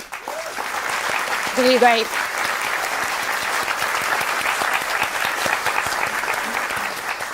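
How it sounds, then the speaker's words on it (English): Audience applause for Gran Turismo World Series racing drivers at a Manufacturers Cup event in Tokyo, steady broad clapping filling the whole stretch, with a brief voice speaking over it early on. "So let's give a round of applause for our 12 Asia Oceania drivers."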